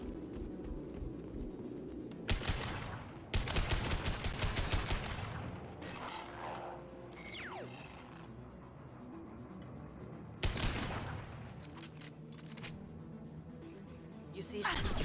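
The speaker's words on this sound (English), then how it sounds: "So finally happy to have an assault rifle." Assault rifle fire in Mass Effect 2, heard as several sharp bursts of rapid shots with quieter gaps and game effects in between, and a voice speaking at times.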